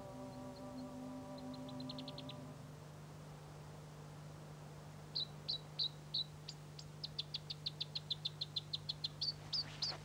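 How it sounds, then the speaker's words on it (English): New Zealand robins sing in a quiet beech forest in the Eglinton Valley, with short clear whistled phrases and rapid repeated notes over a faint steady hum. "The robins are in good voice."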